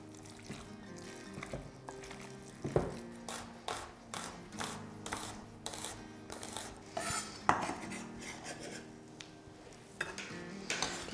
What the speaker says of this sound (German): jetzt gebe ich schon mal das Fleisch dazu und gleich noch den Knoblauch und die Zwiebeln